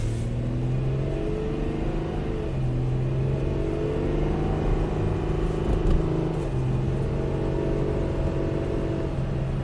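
A Subaru six-cylinder engine with no camshaft advance and fault codes P0011, P0016 and P0018 idles with a steady, even low rumble and hum, close by and unbroken, with no voices over it.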